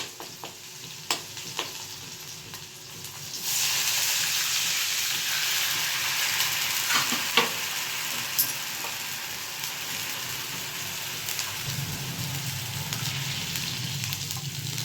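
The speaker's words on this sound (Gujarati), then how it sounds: "જો આ વઘાર સરસ આવી ગયો." Asafoetida and garlic sizzle in hot oil as a tempering for vagharelo rotlo, with a steady, moderately loud frying hiss after a couple of clicks. The sizzle holds for over ten seconds with no speech.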